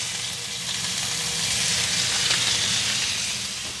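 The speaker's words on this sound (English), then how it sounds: "we're going to be browning this for about 3 to 4 minutes per side." Pot roast beef browns in hot oil with a steady, dense sizzle that stays loud and even throughout, close up with no voices.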